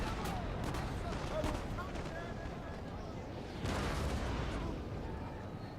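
Cannons fire in a Napoleon: Total War battle at Waterloo, dull booming blasts rolling over a continuous din of distant gunfire and battle noise, fairly quiet overall with a heavier burst of shots near the end.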